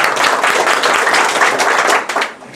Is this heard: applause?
yes